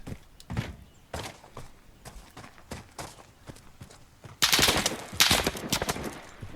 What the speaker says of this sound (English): oh, there you go, I got shot at.